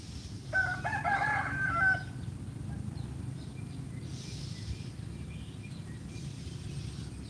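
A rooster crows once near the start on a rural Thai farm beside rice fields in the early morning. Quiet ambience and faint hen sounds follow.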